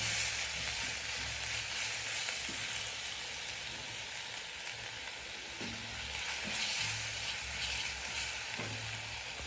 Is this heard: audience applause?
no